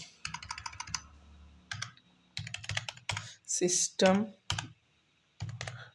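Java code being typed on a computer keyboard, with bursts of quick, close key clicks separated by short pauses and a spoken voice in between.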